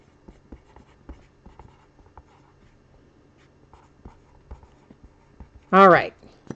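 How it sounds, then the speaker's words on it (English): A pen writes on a trading card with short scratchy strokes during a live card-break stream, light and close, and near the end a brief loud sweeping tone cuts in. "So let's go ahead and write that on here."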